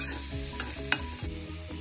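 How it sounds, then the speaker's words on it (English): Fried bitter gourd and onions are stirred in a hot pan, a steady close sizzle with rhythmic spatula scrapes and one sharp knock, with no one speaking. "mix and cook for another minute"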